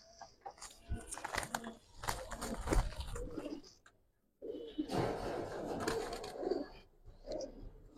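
Soft, quiet cooing and fluttering from breeder Giribaz pigeons in a loft, coming in irregular bursts with a short pause midway.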